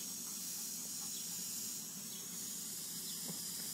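A garden sprinkler sprays water in a steady, unbroken hiss close by, with no gaps or pulses across the few seconds.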